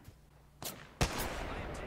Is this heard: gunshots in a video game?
yes